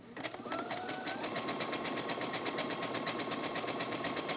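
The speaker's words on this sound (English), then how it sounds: "I'm stitching so that my needle on the right side just goes slightly off the fabric." Sewing machine stitching along the edge of a fabric gift tag made from scraps: a close, fast, even mechanical chatter of needle strokes, steady after a brief start, with a faint whine underneath.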